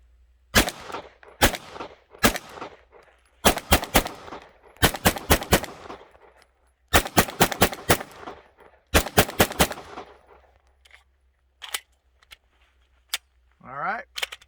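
Shadow Systems DR920P pistol firing 147 grain Winchester rounds, sharp close shots in quick strings of two to five with short pauses between, loud and ringing, then a few isolated faint clicks and handling noise.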